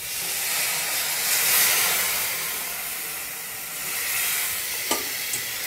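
Water poured onto frying chicken-style masala in a pan bursts into loud sizzling and hissing steam, swelling and easing over several seconds with a couple of utensil clinks, no talk.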